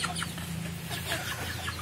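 Chickens clucking softly in an enclosed litter-floor coop, a low continuous murmur of several birds under a faint steady hum, with no voices.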